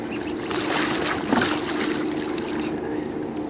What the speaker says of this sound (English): I'm going to get the boat completely full of water.